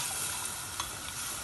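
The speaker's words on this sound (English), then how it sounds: "Keep stirring it on a medium-low flame." A spoon stirring masala in a hot pan on a medium-low flame over a constant sizzle, close and fairly loud, with no talking.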